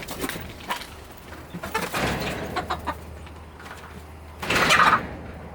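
Backyard chickens cluck and rustle close by, with a scraping sound like a sliding door and a louder squawk near the end.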